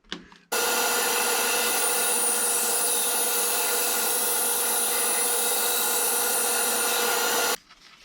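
A power saw, likely a sliding table saw in a workshop, whirs up abruptly and cuts through rubber for about seven seconds in one loud, steady, close whine before stopping suddenly.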